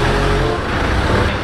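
Ford Ranger pickup fitted with oversized monster tyres being maneuvered, its engine giving a steady loud low rumble throughout with no break.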